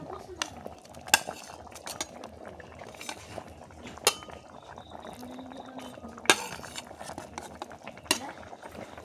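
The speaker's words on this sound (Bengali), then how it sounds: "নাড়াচাড়া করে নিব" A spatula stirs fried fish in simmering curry in a metal pan, making soft bubbling and quiet scraping punctuated by a few sharp clinks against the pan, with no voices.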